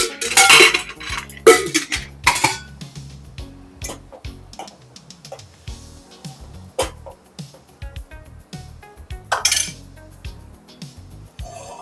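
A pan is set up for tempering Gujarati kadhi, with oil and spices going in; metal utensils clink and clatter in sharp, irregular knocks with quiet stretches between, and no talk.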